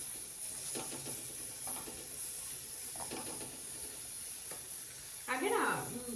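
Roti cooks on a hot pan with a soft, steady sizzle and hiss, broken by a few short scraping stirs and a brief louder sizzling burst near the end, while rice cooks alongside.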